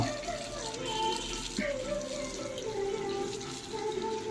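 A toothbrush is rinsed under a running tap, a steady close stream of water splashing into a sink for a few seconds with slight shifts as the brush moves through the flow.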